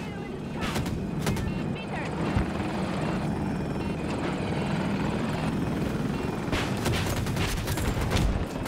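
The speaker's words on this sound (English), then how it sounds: "We got another chopper here." A KA-520 Super Hokum attack helicopter in Battlefield 2042 roars and thrums up close, with bursts of gunfire cracking through the rotor din.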